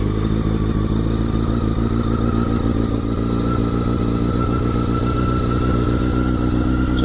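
Motorcycle engine started on capacitor power, idling with a steady close, loud chugging putter and clattery mechanical rhythm throughout.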